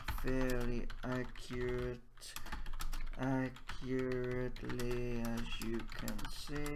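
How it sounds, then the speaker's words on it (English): Touch typing on a computer keyboard, with rapid clustered keystroke clicks running under a man's continuous, close talking, pausing briefly midway. "I can type and I don't need to have my eyes open"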